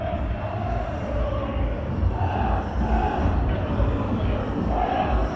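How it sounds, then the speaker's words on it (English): Blackburn Rovers away supporters singing inside a crowded Manchester pub before a match against Blackpool, a muffled, steady roar of voices heard from outside the building. "I can hear them singing in there"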